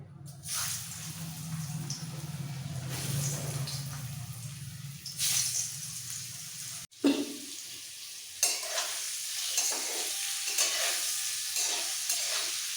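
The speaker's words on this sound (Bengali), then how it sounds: "একটু হলুদ আলুটাকে একটু ভেজে নেব আলু এমনি সেদ্ধ খুব হালকা হাতে ভাজতে হবে" Boiled potatoes with salt and turmeric fry gently in oil in a pan, a soft sizzle punctuated by occasional stirring scrapes and one sharp knock, no talking.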